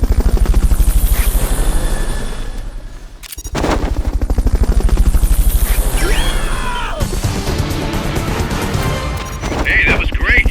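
Loud helicopter rotor thumping amid heavy machine-gun bursts and crashes during a Fulton recovery in Metal Gear Solid Peace Walker, continuous and close, with game voices mixed in.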